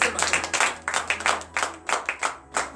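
A church congregation at a Monday morning prayer service in Benin claps in praise, a loose rhythmic run of hand claps with some voices mixed beneath, moderately loud and close.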